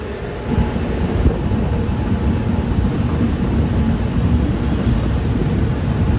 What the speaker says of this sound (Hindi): हमारी ट्रेन है ना बहुत स्लो स्पीड में स्किप कर रही है गोधरा जंक्शन रेलवे स्टेशन को